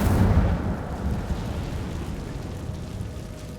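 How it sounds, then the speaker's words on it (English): A fire spell cast in the video game Hogwarts Legacy, heard inside a cave as a loud, broad whooshing roar that flares at the start and then settles into a steady, rumbling burn. "Incendio."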